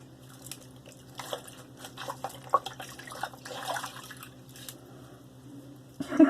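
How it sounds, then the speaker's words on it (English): A DOVO Bismarck straight razor rinsed under running tap water: a steady, fairly close splashing stream with small irregular drips and knocks, growing louder at the end. "Close up that razor, rinse, and see where we're at."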